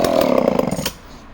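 A chainsaw engine is pulled over on choke and gives a short, rapid sputtering burst, loud and close, that dies away after about a second.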